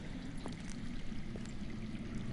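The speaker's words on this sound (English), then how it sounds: "I hear water. From underground." Underground water flows and trickles in the Telltale Game of Thrones video game, a faint, steady rushing wash with soft splashy pulses and no voices.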